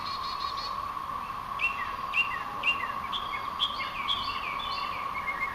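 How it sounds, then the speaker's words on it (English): Small birds chirp and tweet in a neighborhood in short repeated bursts, while a steady, faint siren-like tone hums underneath throughout; quiet, outdoor, no talking. "You can hear the birds and stuff, but then you'll hear this almost like sirens."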